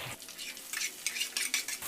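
Blended spice paste and sliced spring onion cooking in a pan over medium heat, with light sizzling and repeated scraping and clinking of a utensil against the pan, close and brief, no talking.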